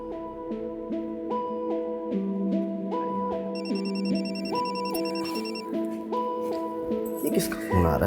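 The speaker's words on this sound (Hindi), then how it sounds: "किसका फोन आ रहा है?" A telephone rings in a repeating electronic melody, steady and fairly loud, filling several seconds before the call is answered.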